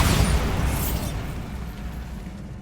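Bombarda explosion spell going off in Hogwarts Legacy, one loud, close, booming blast that rolls out and decays over a couple of seconds into a lingering rumble, no voices.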